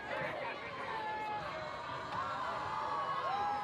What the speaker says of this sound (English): This crowd is loving what they are seeing so far.